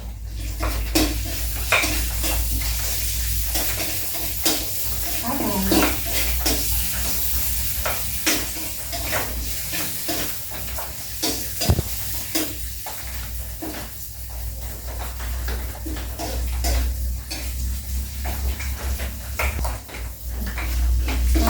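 Garlic dropped into hot boiling oil in a home kitchen sizzles steadily throughout, with frequent close clinks and scrapes of a utensil stirring in the pan and a low background hum, no talking.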